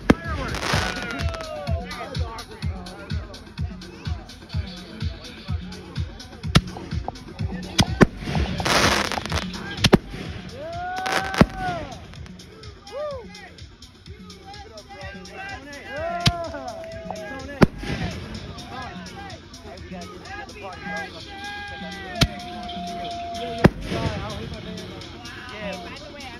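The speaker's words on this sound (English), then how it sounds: "hey, I thought there was fireworks!" Neighborhood fireworks from a July 3rd show burst repeatedly, sharp cracks and booms with whistling rockets in quick irregular volleys, with people talking and shouting in between.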